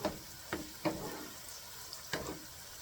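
Eggs being stirred into chicken fried rice in a hot pan, soft continuous sizzling with a few quick scraping strokes of the utensil, close but quiet.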